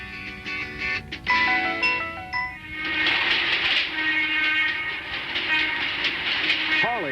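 A freight train hauls boxcars along a siding by the Hershey chocolate plant on a dark ride: clanking rail cars, rolling rumble and a whistle, moderately loud throughout, with no talking.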